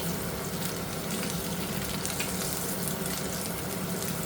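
Eggs frying in a pan, a dense, even sizzle that holds at the same level from start to finish with no other sounds.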